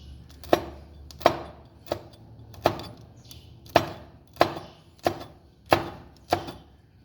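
Green chillies are chopped with a knife in nine crisp, evenly spaced strikes, each a sharp close tap with a short ring, alone in a quiet kitchen.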